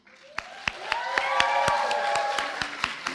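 Audience at a physician assistant white coat ceremony claps together, sharp hand claps swelling into steady applause from a crowd in a hall, moderately loud with no talking.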